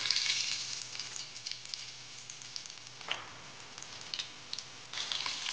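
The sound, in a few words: curry leaves sizzling in hot oil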